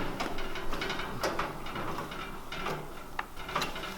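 A fixing is screwed in while assembling a Weber Genesis II LX S-340 gas barbecue, producing repeated quick ratcheting clicks from a hand tool, close and moderately quiet, with no talking.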